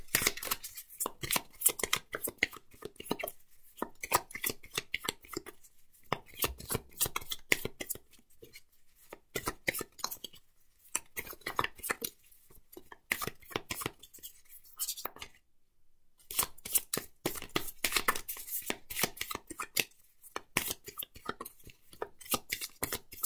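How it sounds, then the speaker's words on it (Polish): Lenormand fortune-telling cards being drawn and laid out on a table, heard as a long series of crisp, irregular taps, flicks and slaps, close and fairly soft. "Karty Lenormanda teraz odsłaniam. Wylosuję trzy karty"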